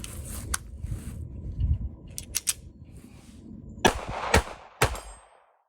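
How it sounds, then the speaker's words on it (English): Several sharp shots ring out from a Ruger LCP Max pocket pistol, the last few spaced about half a second apart, loud and close amid handling clatter. "So let's shoot one more mag"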